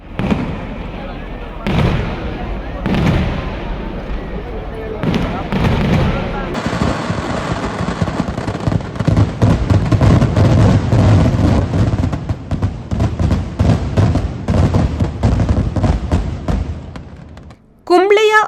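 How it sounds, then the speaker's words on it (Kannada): Fireworks at a night temple festival for Sri Mahalingeshwara in Puttur fire in rapid loud crackling volleys and booming bursts, dense and continuous, building into near-constant rattling barrages before cutting off abruptly at the end. "ಆಕರ್ಷಕ ಸುಡುಮದ್ದು ಪ್ರದರ್ಶನ ಪುತ್ತೂರು ಬೆಡಿ ಅದ್ದೂರಿಯಾಗಿ ನಡೆಯಿತು"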